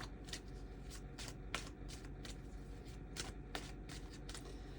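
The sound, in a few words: shuffling a Hermetic tarot card deck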